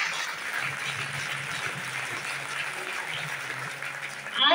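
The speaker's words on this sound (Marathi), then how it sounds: "कृष्ण भैयाने आजच्या या शिवमहापुराण कथेमध्ये सुंदर अशी साथ दिली म्हणून एकदा टाळ्या वाजवा" An audience claps together at a Shiva Mahapuran religious discourse, a steady, moderately distant applause lasting a few seconds and swelling slightly at the end.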